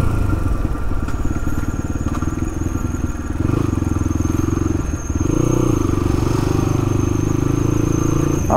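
Motorcycles stuck in a dense traffic jam on a road with an overturned truck ahead. Engines idle and rev loudly and continuously at close range, with occasional squeals and clatter.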